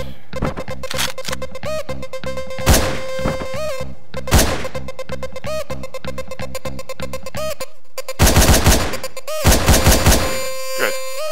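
Gunshots in the video game Hotline Miami, a series of sharp, loud blasts spaced irregularly, with a dense burst of rapid fire toward the end, over a looping electronic game soundtrack.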